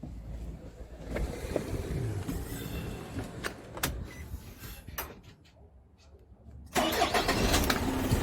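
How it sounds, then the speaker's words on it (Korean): The diesel engine of an Isuzu Elf 3.5-ton cargo truck with 32,000 km idles and rattles, with a few sharp clicks and clunks, then cranks and catches, jumping into a louder, rougher running roar near the end. "일단은 시동 한번 걸어서 엔진 소리 한번 들어보고요"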